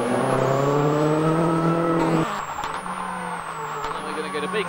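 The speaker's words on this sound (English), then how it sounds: "We're at Silverstone, it's slippery, it's gravel, and we're doing big skids." Ford Focus WRC rally car sliding on slippery gravel at Silverstone, its engine roaring loud and close with a falling pitch as it drifts, then dropping to a lower steady drone; a voice talks over it.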